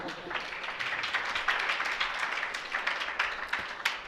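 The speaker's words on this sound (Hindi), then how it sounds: "देखो तुम्हारी इस बात में भी कैसी तालियां बज रहे हैं" An audience at a religious sermon claps steadily, a dense patter of many hands held at an even level throughout without pause.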